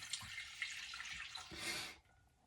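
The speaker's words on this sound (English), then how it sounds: "we pour our milk into the bowl like so" Milk poured into a mixing bowl while making ring doughnut dough, a close, steady liquid splash lasting about two seconds, swelling slightly near the end before stopping abruptly.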